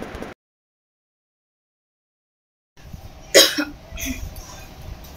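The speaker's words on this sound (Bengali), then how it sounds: "ওর যেমন কাশি হচ্ছে" A child coughs in a short burst of a few sharp coughs after a stretch of near silence, close and fairly loud, with faint room noise around it.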